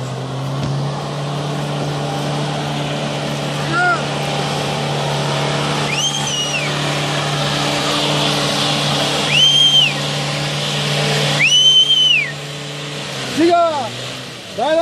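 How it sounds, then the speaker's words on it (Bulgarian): A Toyota Hilux off-roading near Stara Zagora, Bulgaria holds a steady engine drone broken by several rising whining revs, loud and close, with people talking over it. "За какво даваш толкова много газ на този джип, бе?"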